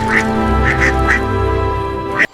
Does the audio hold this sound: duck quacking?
yes